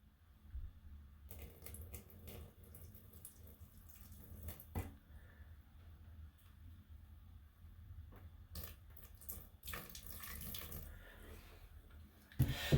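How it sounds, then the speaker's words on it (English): A small amount of water is poured into a bucket over drywall mud, producing a quiet, intermittent splashing and trickling with brief spurts and soft knocks, faint and close. "pour just a skim coat of water"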